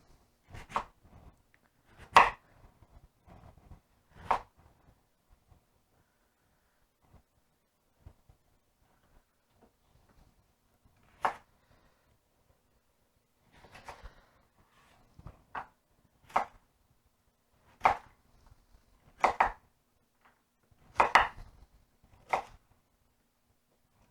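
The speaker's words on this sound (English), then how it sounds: "So we're just going to cut it into cubes." A knife cuts vegetables into cubes on a cutting board, with sparse, crisp chops that arrive singly or in short bursts separated by quiet pauses.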